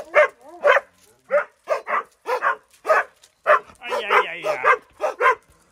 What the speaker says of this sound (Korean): 짖지 마라